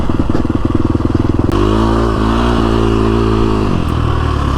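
KTM 350 SX-F dirt bike ridden through the desert; a loud, close engine drone with a choppy, rattling stretch early on, then a steadier, smoother hum at constant speed.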